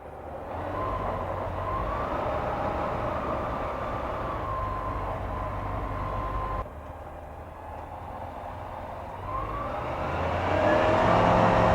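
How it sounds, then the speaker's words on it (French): The engine of an A22 ultralight aircraft drones steadily and loudly as it takes off from runway 10 right. The engine briefly eases and then builds to a stronger, higher roar toward the end. "Je m'aligne 10 droite et je décolle pour un vol à destination de Rouen."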